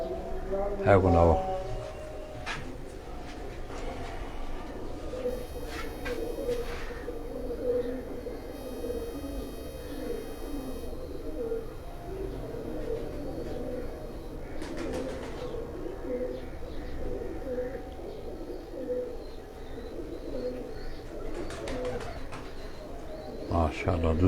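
Steady low cooing from a flock of pigeons on a rooftop in Jalalpur Bhattian, a continuous throaty murmur close to the microphone with voices and a few handling bumps nearby.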